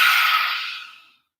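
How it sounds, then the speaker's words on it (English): A single deep inhale taken during a yoga hip-opening flow, a soft airy breath heard up close that fades out over about a second. "Deep inhale."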